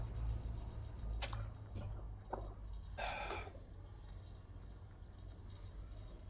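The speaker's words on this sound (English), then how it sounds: "Spraying myself in the face with my water bottle." A water bottle sprays in short hissing bursts: two quick spritzes, then a longer spray, over a low steady hum of spaceship game audio.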